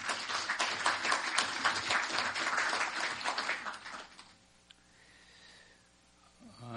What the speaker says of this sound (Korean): 하영선 이사장님을 큰 박수로 맞이해 주시기 바랍니다.